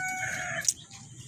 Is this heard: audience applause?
no